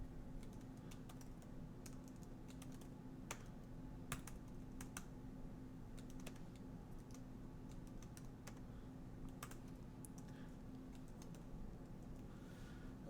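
Fingers type code on a computer keyboard during a Rust programming session, producing quiet, irregular clicks and short bursts of keystrokes over a steady low background hum, with no voices.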